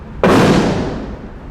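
Single AR-15 rifle shot fired at a target, one sharp loud crack followed by a decaying outdoor echo, close and alone.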